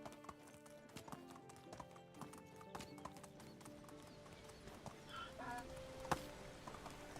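A donkey runs in the game Medieval Dynasty, its hooves making a steady, rapid clip-clop over a soft outdoor game ambience, with a sharp click near the end.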